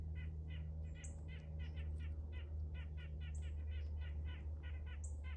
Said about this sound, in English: BP was too close to the bird feeder, so look at all of the hyperactivity and all the alert sounds.